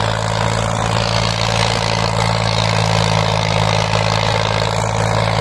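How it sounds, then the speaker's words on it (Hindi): Sonalika 35 tractor engine running hard during a harrow competition in Rohtak, a loud steady low diesel drone with constant throbbing, close and unbroken, with no talk over it. "आवाज सुनो भाई, सोनाली का 35 की"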